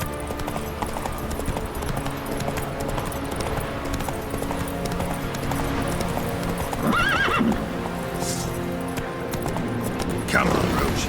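Horse hooves in The Witcher 3 pound in a steady gallop with a jingling of tack, joined by a couple of whinnies and snorts near the middle and end, loud and continuous.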